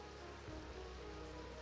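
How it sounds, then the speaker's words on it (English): Rain in LEGO Fortnite, heard in a dark cyberpunk city at night with neon signs, forms a faint, steady hiss with no other sounds. "the weird sound of rain"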